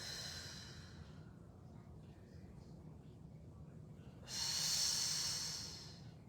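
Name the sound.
exhaling during a glute exercise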